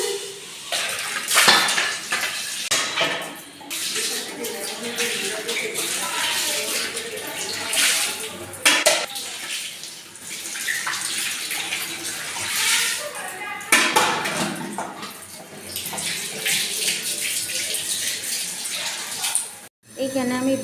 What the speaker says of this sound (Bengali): এখন আমি থালবাটি ধুইতেছি।